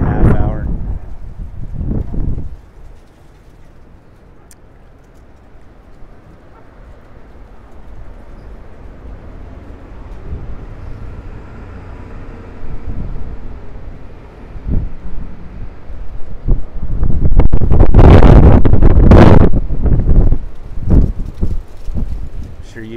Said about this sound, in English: Sure, you heard that wind.